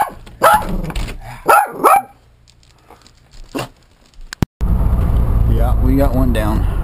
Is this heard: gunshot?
no